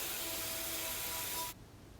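A small belt grinder abrades the edge of a metal filler ring with a steady, hissing rasp for about a second and a half, then cuts off and leaves only faint background noise.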